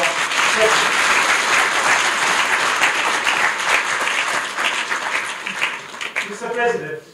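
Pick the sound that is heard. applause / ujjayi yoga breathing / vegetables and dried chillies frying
applause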